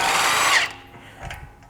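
A power tool whirs loudly for about half a second as it spins off a 30mm 12-point axle nut on a GR Corolla, then cuts out, leaving faint clatter and knocks.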